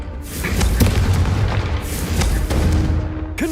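A Confringo spell explodes in the video game Hogwarts Legacy, giving deep booming blasts that come in a couple of heavy bursts with a rumbling tail.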